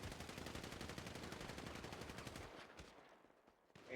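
Video game gunfire: rapid automatic bursts fire continuously for about two and a half seconds, then give way to a few scattered single shots against near silence.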